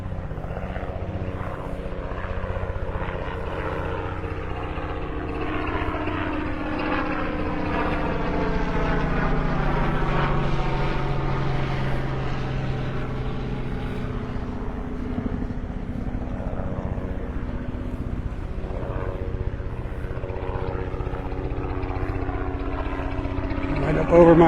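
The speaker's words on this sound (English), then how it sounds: "Choppers coming up the beach," A pair of helicopters fly low overhead along a beach at Delnor-Wiggins, North Naples, Florida, their rotor thrum rising then sweeping past in a loud, sustained drone with shifting pitch, with faint talk underneath.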